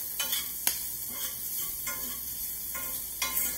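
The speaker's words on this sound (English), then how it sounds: "so we're just gonna stir our bacon around" Bacon frying in a pan on a stovetop for potato soup, a steady close sizzle broken by several sharp scraping and tapping strokes as it is stirred.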